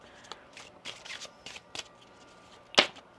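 Soft riffling and tapping of tarot cards being shuffled in several quick bursts, with one sharper snap near the end, in a quiet room.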